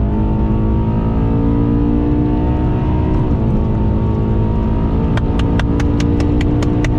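A BMW E92 M3 accelerates hard on the Nürburgring, its engine note a loud, continuous, rising drone with strong harmonics, close up and sustained, with a run of sharp ticking clicks near the end.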